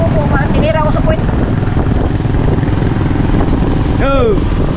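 A motorcycle engine drones loudly and steadily up close throughout, with people talking over it.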